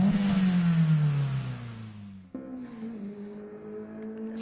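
A car engine revs hard in GT Sport, a loud rising-then-falling roar followed by a sudden shift into a steadier, lower drone, close and unaccompanied by voices.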